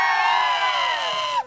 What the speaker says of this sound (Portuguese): Agora é outro grito de alegria